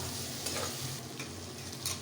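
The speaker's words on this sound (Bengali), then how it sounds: "এটাকে ভালো করে নাড়াচাড়া করে নেব।" Kashmiri chilli powder and green chillies stirred in a hot pan, a soft, steady sizzle with faint scraping of the spoon throughout, low and close with no talking.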